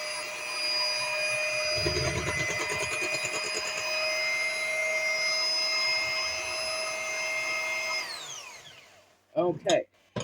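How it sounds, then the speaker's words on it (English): An electric hand mixer beats butter and eggs for biscotti dough, its steady high motor whine running close and loud for about eight seconds before it switches off and winds down, followed by a few brief clatters. "you can whisk or use a hand mixer"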